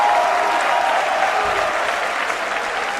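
Loud, dense crowd cheering and applause fill a packed arena at a Dota 2 esports grand final, OG versus Ad Finem at the Boston Major, a steady roar sustained throughout with no break.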